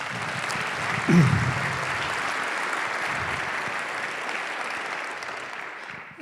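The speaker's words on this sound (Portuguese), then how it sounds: "uma salva de palmas" Audience applause at a mining innovation summit panel: a broad, even wash of clapping from a large hall, sustained for about six seconds, with a brief low bump of noise early on.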